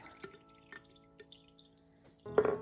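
Whey drips through kefir grains, giving a few faint, sparse liquid drips and light glassy clinks over a quiet, resonant background, ending in a louder splashy patter.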